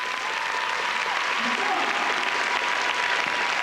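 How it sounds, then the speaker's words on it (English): A crowd at a 1997 gymnastics competition in Lyon applauds steadily, a dense, even wash of clapping throughout, with an announcer's voice running over it. "nous applaudissons."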